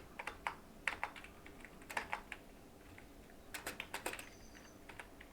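Computer keyboard keys tapped for a control-key shortcut while writing HTML, giving quiet scattered clicks in small bursts, close and alone.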